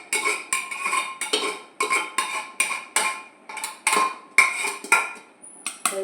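Repeated clinks and clatters of ingredients dropped into a metal pressure cooker, a dozen or so irregular knocks close by with no talking.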